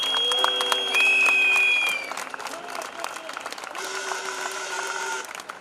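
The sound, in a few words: crowd applause for the members of parliament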